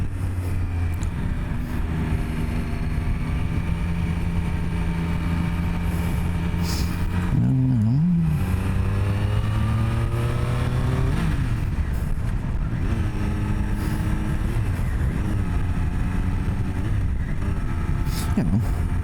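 A Triumph Daytona 765 Moto2 Limited Edition sport motorcycle engine drones at half throttle, a steady moderate speed, close and continuous, with its pitch dipping and rising briefly as it shifts.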